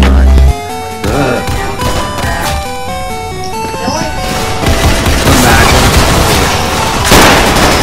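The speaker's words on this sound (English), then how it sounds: "Someone rocket boosted." Rocket boost in the video game Arsenal: a dense run of loud explosive booms and blasts layered over tonal game music, busy and continuous throughout.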